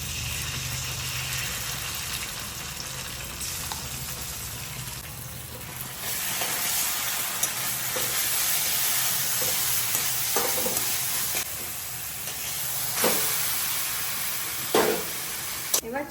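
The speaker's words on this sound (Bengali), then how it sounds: "এবার চাউমিনটা সসের সাথে ভালো করে মিশিয়ে নেব।" Chow mein stir-fried in a pan with Kissan tomato sauce and crushed chilli, giving a steady, close sizzle with intermittent spatula scrapes and taps against the pan throughout.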